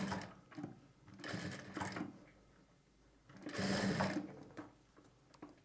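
A sewing machine stitches a lining and piping in two bursts of rapid whirring needle strokes, each lasting about a second, with quiet pauses and faint handling sounds between them.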